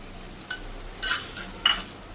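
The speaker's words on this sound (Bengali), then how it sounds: "এবার আমি এটাতে এই সর্ষে বাটাটা দিয়ে দেবো" Mustard paste is stirred into boiled Malabar spinach in a pot, with a few brief scraping strokes of a utensil over a faint simmering sizzle, close and without talking.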